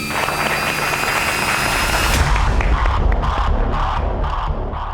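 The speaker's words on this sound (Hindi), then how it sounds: "तो जोरदार तालियों से स्वागत कीजिए" A studio audience at a crime-drama stage event greets a host's entrance with loud, continuous applause and cheering, a dense crowd roar filling the whole stretch.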